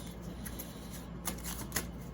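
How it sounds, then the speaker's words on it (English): A deck of tarot cards is shuffled by hand, giving soft, faint riffles and a couple of sharper card snaps over a quiet room hiss. "I'm shuffling you."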